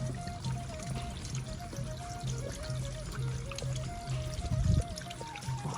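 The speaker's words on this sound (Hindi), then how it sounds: "छोटा सा एक स्ट्रीम बहकर आ रही है" A small clear stream near Pandava Betta on a jungle trek trickles and splashes between rocks, a continuous close babble with a steady low hum beneath it.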